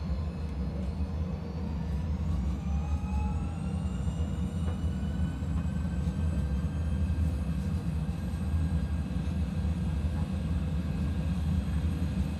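Airliner engines in a flight simulator spool up to takeoff thrust, a steady loud roar with a faint rising whine above it and no one talking over it.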